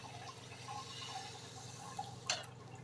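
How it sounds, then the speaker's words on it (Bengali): Water poured from a cup into a pot of small new potatoes with spices for a vegetarian aloo dum, a soft steady liquid wash with a brief brighter splash near the end. "তা আমি এটাকে এবার জল দিয়ে দিচ্ছি"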